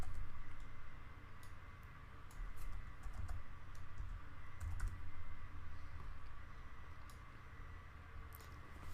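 Computer keyboard keys clatter in quick, irregular bursts of close, light clicks while code is typed, steady tapping with brief pauses and no voices.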